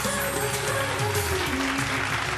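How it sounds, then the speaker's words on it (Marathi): Applause greeting Mayuri Wagh as she comes on stage at a televised Mangala Gaur games event, a dense continuous wash of clapping over a low hum of music and voices throughout. "जोरदार टाळ्याने आपण तिचं स्वागत करूयात"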